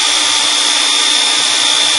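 A power drill runs steadily while servicing a brake wheel cylinder, a continuous whirring hum with a sustained high whine, loud and close, with no talking.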